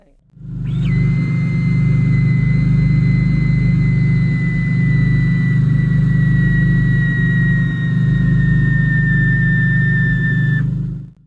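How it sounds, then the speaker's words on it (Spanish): Maserati MC12 supercar axle lift system running: a loud, steady low hum with a high whining tone that rises quickly at the start, then holds nearly constant for about ten seconds before stopping. "el elevador del eje de este coche es increíblemente ruidoso. Escucha cómo suena el elevador del eje haciendo su trabajo."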